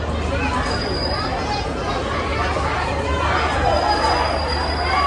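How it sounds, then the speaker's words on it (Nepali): A steady rumble of a train at a busy station in Janakpur, Nepal, with crowd chatter throughout and a faint high metallic squeal. "यहाँ रेल पनि आइसकेको छ यहाँ रेल देख्नुहुन्छ"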